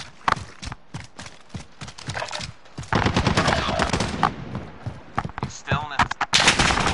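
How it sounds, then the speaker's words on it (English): Call of Duty Modern Warfare gunfight with shotgun blasts and gunfire, sharp loud shots scattered irregularly amid game effects, with voices talking in between. "I shot someone"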